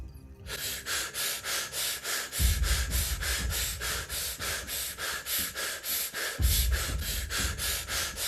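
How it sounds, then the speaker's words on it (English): Rapid, rhythmic in-and-out breathing during a guided breathwork session, loud and close, with steady repeated breaths of even tempo and a deeper low whoosh at a couple of points; no talking over it. "And now we're going to take some fast breaths together to change the space, to change state."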